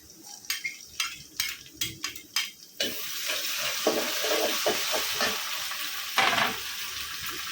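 Ginger-garlic paste hits a pan of fried onions and sizzles steadily, with a spatula scraping in quick repeated strokes at first, then a continuous loud frying hiss with occasional bursts of stirring.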